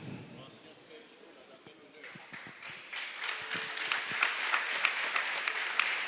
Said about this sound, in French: Oui, ça mérite effectivement des applaudissements, mais bon, bien plus nourris que cela.